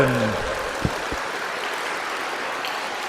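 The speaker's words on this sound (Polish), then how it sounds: "Ksiądz biskup Antoni Długorz, brawa gorące!" Steady applause from a crowd at a children's concert fills the whole stretch, dense and even, with a voice fading out at the very start.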